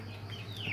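Chickens being fed rice, with soft clucks and a brief chirping call over a steady low hum, close and fairly quiet.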